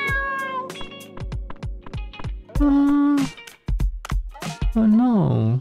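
Cartoonish cat meows in the video game Dave the Diver, a rapid series of short stacked mews followed by a few longer drawn-out yowls, loud and close, with game sound effects around them.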